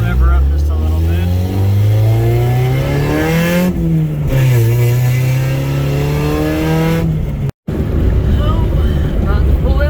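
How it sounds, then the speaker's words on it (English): A Honda Civic EF engine revs while driving, its pitch climbing and falling in a long strained sweep. Heavy wind noise runs throughout, and the sound cuts out briefly near the end before resuming. "I'll rev her up just a little bit."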